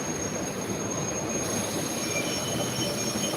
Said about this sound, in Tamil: 6வது பிளாட்ஃபார்மில் ட்ரெயின் வருதுங்க